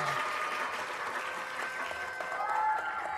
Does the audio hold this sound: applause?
yes